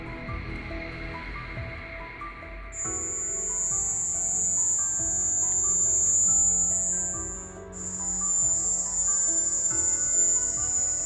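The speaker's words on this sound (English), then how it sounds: "The culprit was simply crickets." Crickets chirp in a dense, continuous high-pitched trill that carries on throughout, with a second layer of chirping joining partway and persisting.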